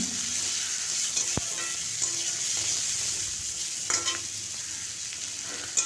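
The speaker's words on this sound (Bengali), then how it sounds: "দিয়ে দিলাম একটা বড় সাইজে পেঁয়াজকে কুচিয়ে" A large chopped onion frying in oil with nutmeg, mace, whole cumin, a small cardamom and two dried red chillies for an egg and potato curry, giving a steady close sizzle with occasional spoon clicks and scrapes as it's stirred, without talk.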